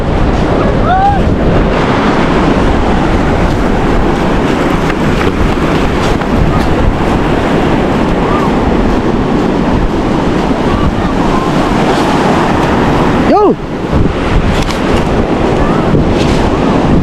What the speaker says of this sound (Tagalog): Sarap maglakad-lakad sa dagat pag hapon.